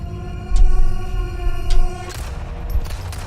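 Gunfire in the Resident Evil 4 boss fight, a few sharp shots and booms over a droning game soundtrack, loud and close.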